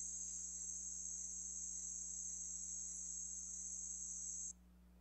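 Insects in a Costa Rican rainforest produce a continuous high, shrill buzzing trill that holds steady over a low background hum, then abruptly cuts off just before the end.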